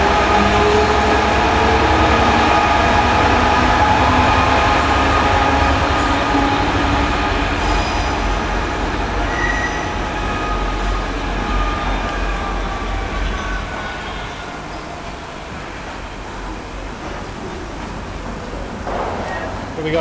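Two Class 67 diesel locomotives pass straight through a station without stopping. Their loud rumbling engines and rolling wheels are heard close by, then gradually fade as they move away.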